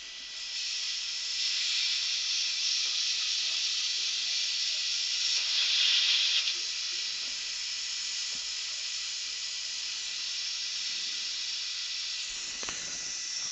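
A carbide fluted, gold-coated dental burr trimming excess composite resin from a Class I occlusal filling on a tooth, a steady high-pitched whine and hiss that runs continuously and close, with a faint tap near the end.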